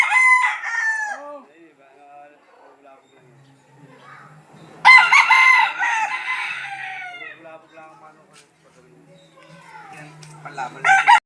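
Roosters crowing loudly and up close at a backyard chicken farm, with two long, strong crows separated by quieter clucking and faint murmuring, and another crow starting at the end.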